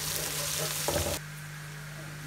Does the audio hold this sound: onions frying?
yes